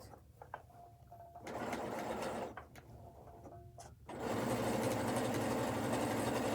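A PFAFF Creative Ambition 640 sewing machine does free-motion stitching with white thread on white fabric: a short whirring burst, a pause, then a steady, close run of stitching.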